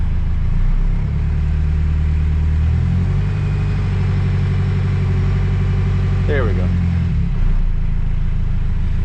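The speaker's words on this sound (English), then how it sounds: "I'm gonna kick up the revs just a little bit." A Cummins R2.8 diesel truck engine idles steadily and rises slightly in revs on a cool day, running continuously beneath a voice speaking briefly.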